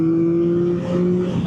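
Yamaha MT-09 motorcycle engine holding a steady, high-revving tone after a downshift, loud and close, with a rising note near the end.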